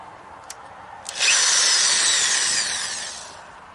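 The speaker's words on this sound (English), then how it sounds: "so you just grab your drill and you're going to drill your holes." A power drill bores holes to mount an Arlo Essential Outdoor Camera (2nd Generation), with a couple of brief clicks before the motor whines up loud and steady for about two seconds, then trails off.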